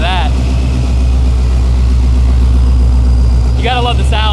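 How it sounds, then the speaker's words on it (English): ProCharger supercharged Coyote V8 in a street Mustang rumbles with a steady, loud, low-pitched exhaust drone throughout, with people talking briefly at the start and end. "You gotta love the sound of a Pro Charger."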